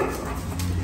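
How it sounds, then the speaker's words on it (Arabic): Street dogs outside a home give short, dense whimpering and yipping sounds over a thick layer of background noise, close and continuous for under a second, with no speech. "هوجو هنا بيأمن كلاب الشارع عشان بيحاولوا يخشوا ورانا البيت بهدوء تاني"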